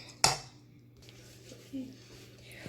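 A pancake is flipped in a frying pan at breakfast, giving a single sharp metallic clatter of spatula on pan, followed by quiet sizzling and light scraping while a person talks.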